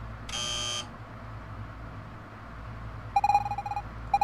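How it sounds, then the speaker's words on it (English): In the video game Evoland 2, a harsh electronic buzzer sounds once, then a sequence of short beeping tones follows a few seconds later, clean and clear over a quiet background. "When you hear the buzzer, move to the right."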